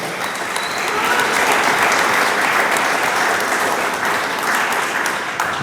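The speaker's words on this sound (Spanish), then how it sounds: "Dele palmas al Dios del cielo." A church congregation bursts into loud, sustained applause during a pastor's sermon, dense clapping from many hands holding steady for several seconds with no speech.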